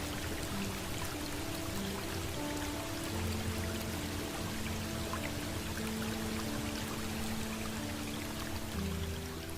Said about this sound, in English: when viewed from a distance, it looks as if countless streams are pouring down simultaneously